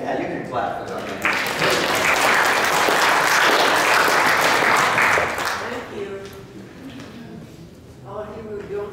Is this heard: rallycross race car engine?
no